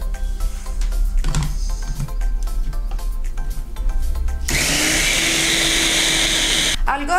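A kitchen blender whirs loudly and steadily, mixing lentil burger ingredients seasoned with garlic powder. The motor runs for a few seconds after some clattering and handling noises at the start.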